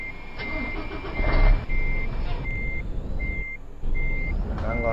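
Repeated evenly spaced reversing beeps from a bus in Euro Truck Simulator 2, sounding over a steady engine rumble with a brief louder engine surge partway through.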